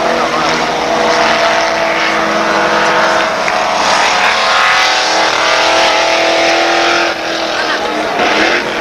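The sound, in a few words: race car engine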